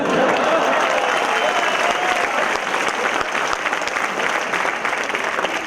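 A comedy show audience at a university applauds loudly and steadily, a dense continuous wash of many hands clapping close by, with voices faintly mixed into the crowd noise throughout.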